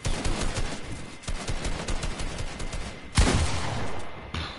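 Rapid gunfire from a competitive online shooter match, dense bursts of repeated shots with a loud sharp report near the end, continuous and without talk.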